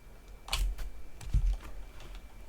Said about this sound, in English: Let's say you're typing a long command.